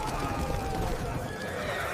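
Panicked horses neigh and whinny amid the chaos of a surprise attack on a tenth-century camp in Bavaria, with hoof clatter and shouting men under a dense, continuous din.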